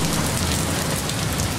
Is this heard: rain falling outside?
yes